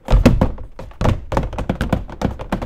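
Heavy, hollow clunking footsteps of a Springtrap suit built from hard plastic shells, a steady run of hard knocks and thuds close by as the shell strikes the floor with each step.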